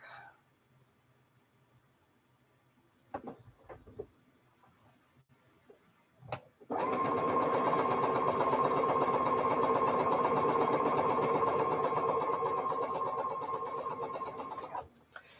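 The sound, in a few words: sewing machine chain piecing quilt block pieces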